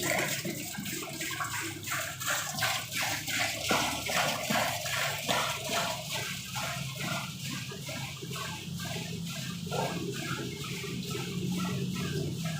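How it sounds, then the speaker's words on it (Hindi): Water pours steadily into a liquid mixer machine being tested, a continuous splashing rush with a faint rhythmic mechanical clatter running underneath throughout. "इसको टेस्टिंग के लिए इसके अंदर पानी डाल रहे हैं।"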